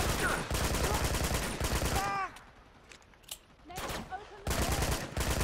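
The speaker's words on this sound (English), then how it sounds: "do you not hear me shooting the gun?" Rapid bursts of gunfire from the video game Uncharted 2 rattle loudly in stretches, falling to a brief lull before the shooting resumes at full intensity.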